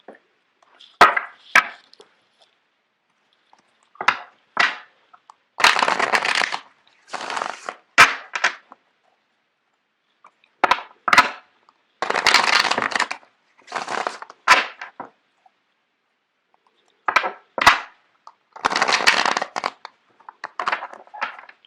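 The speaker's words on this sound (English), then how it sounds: "I'm going to shuffle out the cards for you guys." Tarot cards being shuffled in repeated short riffling bursts, close and crisp, separated by brief pauses of silence, with no talking.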